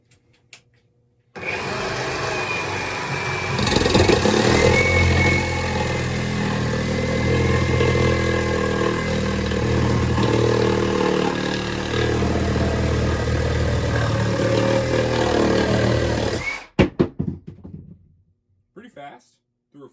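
Metabo HPT 36V MultiVolt reciprocating saw cutting at speed 4 in non-orbital mode, a loud continuous motor whine with a rattling blade stroke lasting about fifteen seconds, then cutting off, followed by a few clunks.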